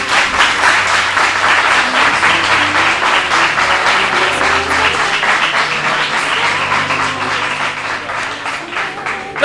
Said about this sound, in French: Je vous demande d'applaudir cette équipe